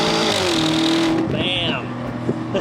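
Audi SQ7 SUV with 568 pound-feet of torque accelerating hard, a loud engine roar heard from inside with a rising pitch and a gear change midway, and voices talking over it.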